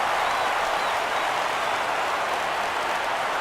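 A baseball video game crowd roars steadily for a full-count pitch, a dense wash of cheering and applause that stays level and fairly loud throughout, with no commentary heard.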